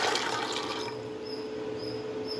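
Washed chickpeas tipped into water in a pressure cooker, a splashy pour at first that settles into a steady watery wash, moderately loud and close with no voices.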